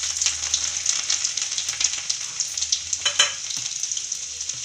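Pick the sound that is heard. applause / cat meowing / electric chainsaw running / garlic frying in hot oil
garlic frying in hot oil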